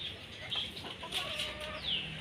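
A pet hen that lays eggs gives soft, short clucks and calls over a steady outdoor background hum. Faint cheeps from other birds are mixed in.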